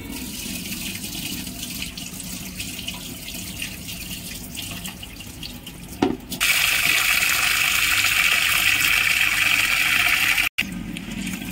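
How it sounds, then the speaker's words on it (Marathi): Tap water runs in a kitchen sink while homemade mixed dals, including moth bean dal, are rinsed; a softer trickle gives way to a steady, louder gush around the midpoint, with a brief cutout near the end. "इथे मी दोघं डाळी 2 ते 3 पाण्याने स्वच्छ धुवून घेतलंय"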